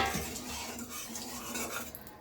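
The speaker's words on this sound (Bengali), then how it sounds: "তেলটা ভালো করে নাড়িয়ে নিচ্ছি আমি চারিদিকে" Oil being stirred around a pan with a metal utensil, a steady soft scraping and faint sizzle with light clinks of cookware, close and continuous while preparing katla fish kalia.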